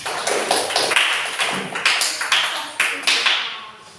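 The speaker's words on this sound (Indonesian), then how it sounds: "iya, pintar, tepuk tangan." Schoolchildren in a classroom clap their hands in a quick, loud, rhythmic pattern of distinct claps that fades out toward the end.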